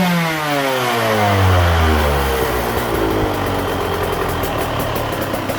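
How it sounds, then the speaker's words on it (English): Rebuilt KTM 150SX two-stroke dirt bike engine with new crankshaft and piston, revved with a couple of blips that climb in pitch and fall back, loud and close with no talking. "let's give her a couple good blips and rev her out"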